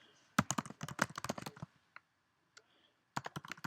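Quick bursts of keyboard typing, keys clattering in rapid runs, then a short pause with a couple of isolated taps before another fast flurry of keystrokes.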